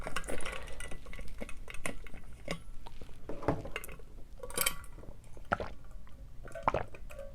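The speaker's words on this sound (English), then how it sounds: "let me drink my water." Water being drunk from a cup, heard as a series of close, soft sips, swallows and small wet clicks with occasional light clinks, with no talking.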